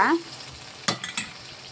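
Onions, dried red chillies and mustard seeds sauté in a pan of hot oil with a soft, steady sizzle, broken by a few quick clinks and scrapes of a spoon stirring.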